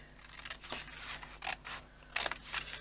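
Scissors cutting through card to make a 7x7 inch box, a few separate crisp snips and crunchy slices spaced irregularly, close and fairly quiet with no talking.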